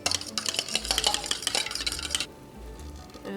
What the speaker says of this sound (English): I'm gonna crack an egg into here and whisk it just a little